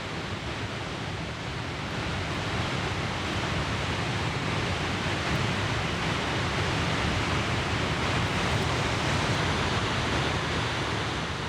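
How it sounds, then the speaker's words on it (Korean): The main waterfall at Victoria Falls in Zimbabwe, some 700 m wide, roars as a constant, dense, broadband rush that stays loud and unbroken throughout. "메인 폭포는 폭이 700m에 이르는 거대한 폭포다"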